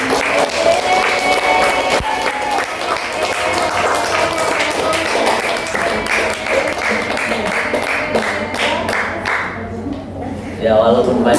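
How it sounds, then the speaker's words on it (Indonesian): Audience applause for presenters at an Islamic study session on Tafsir of Surah Ali Imran, steady sustained clapping from a room full of people, with a voice speaking over it near the end. "kita kasih aplaus untuk yang presentasi"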